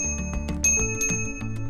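A small bell on an FLX Babymaker bicycle rings in rapid repeated dings, bright and close, with no talking.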